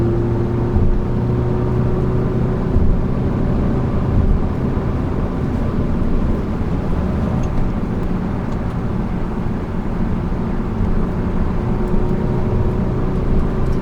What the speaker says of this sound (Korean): 배기음도 좀 스포티한 느낌이 나고